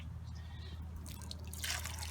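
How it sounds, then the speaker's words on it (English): Water is poured from a cup into a worm compost container, a soft running splash and drip that builds and brightens near the end over a low steady hum. "So I'll take one of these cups, grab a little water"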